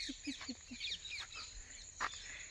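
Parrots call in a village field, with faint, distant chirps and squawks in short bursts over soft rural ambience and a faint insect hum.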